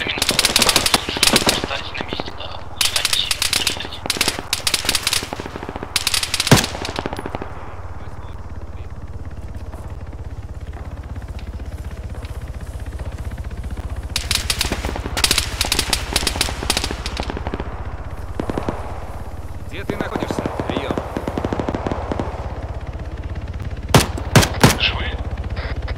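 Machine gun fire in the military shooter Arma 3: repeated long bursts of rapid automatic shots, loud and close, broken by pauses with sporadic single shots, while someone speaks over the gunfire on radio-style chatter.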